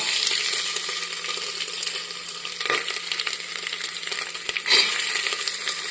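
Ginger and garlic fry in hot oil in a pan for beef curry, a steady close sizzle with a few stirring scrapes and taps against the pan.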